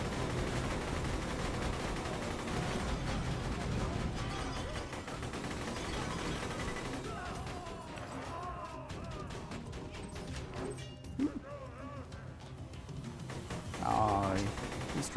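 Gunfire in the Borderlands 2 video game after switching to a different weapon, with sustained rapid shots and crashing impacts layered over dense game music and effects, loud throughout, with a brief burst near the end.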